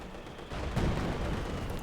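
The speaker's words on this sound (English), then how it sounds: "Heavy mortar bombs there being deployed by the Angry Dutchman." Heavy mortar bombs fire in a Company of Heroes 2 match as a dull, booming thud that swells into a rumbling roar, loud and close within the noisy game mix.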